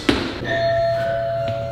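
A front-door doorbell rings once with a sharp onset, followed by a sustained chime tone that lingers over low room hum; no voices are heard.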